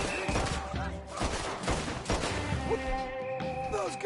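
Dense gunfire from a Red Dead Redemption 2 shootout, with a rapid fusillade of loud, overlapping shots, crashes and impacts that continue throughout. A brief voice can be heard amid the shooting.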